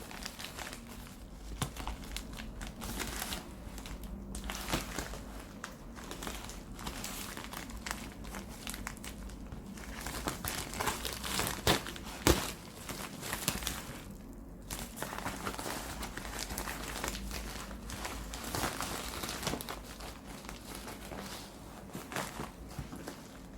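Plastic and paper crinkle and rustle close up, with cuts and tearing, as a package shipped from the States is opened with scissors and unwrapped. The sound goes on almost without a break.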